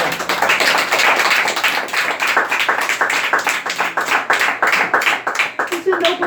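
A church congregation claps along in a strong, even rhythm, loud and close, with singing or voices running underneath the beat.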